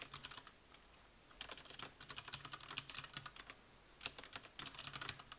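Keyboard typing in bursts of rapid, close clattering keystrokes, with brief pauses between runs, while coding a plugin at a computer; no voices.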